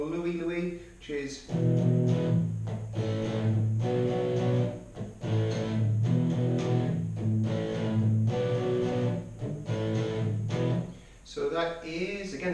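A guitar plays a riff on individual strings, repeating clusters of plucked notes in a steady rhythm, close and clear, with brief gaps between phrases.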